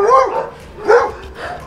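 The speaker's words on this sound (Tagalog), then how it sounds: "Daming aso dito" Two sharp, close dog barks about a second apart, followed by a softer yip, from dogs in Baguio City, loud and clear against a quiet background.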